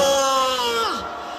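A large crowd roars and shouts together at an outdoor rally against impeachment, a loud sustained cheer with a rising whoop that drops off after a second.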